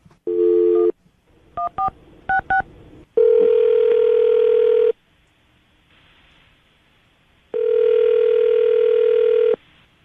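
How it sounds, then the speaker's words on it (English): Quick beeping touch-tone dial presses, followed by long steady tones of a telephone line, loud and close, with no talking. "I'll dial her phone number right now"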